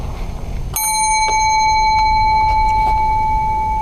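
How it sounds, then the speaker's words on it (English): A bicycle-style hand bell rung once sharply, its bright metallic ring sustaining through the rest of the moment, followed by a few softer taps, loud and close against a low background rumble, no talking. "I'm going to sit here and ring this bell until you come back over here and take this paper from me"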